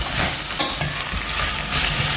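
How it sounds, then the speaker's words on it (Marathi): Bombil fish frying with onions in a pan makes a loud, dense, continuous sizzle, with occasional brief stirring scrapes and crackles over the steady hiss. "आणि मातशें अशें लायट पिंक जाय म्हणसर न्ही हाका फ्राय कोत्ता"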